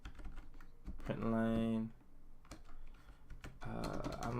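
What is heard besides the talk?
typing on a computer keyboard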